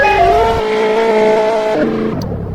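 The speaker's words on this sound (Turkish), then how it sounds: "bir de böyle bir araba yaptım arkadaşlar" Engine of a car in a homemade video game holds a steady synthetic drone, then shifts down in pitch near the end, loud and close with no talk.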